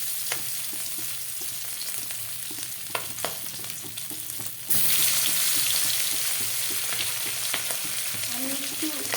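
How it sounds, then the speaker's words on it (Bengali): Fish pieces fry in oil in a home kitchen, with a near, steady sizzle and occasional stirring clicks; the crackle jumps louder about midway as more fish hits the pan. "মাছগুলোকে ভেজে নেবো।"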